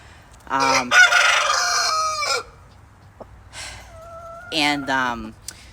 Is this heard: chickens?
yes